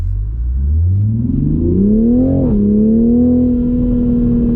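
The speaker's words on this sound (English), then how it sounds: "I just stepped on the gas a little bit now, but as you can tell, immense acceleration also." A Toyota Supra engine accelerates from low revs, its droning tone climbing steadily, dipping briefly at a gear change, then holding a steady pitch; loud, close and continuous with no talk.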